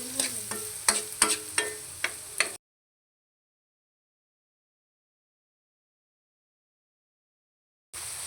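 Onion, garlic, radish and carrots sauté together in a pan for pork-entrail bopis: a close, crackling sizzle punctuated by several sharp utensil clinks for about two and a half seconds. Then silence, with the sizzle briefly returning at the very end.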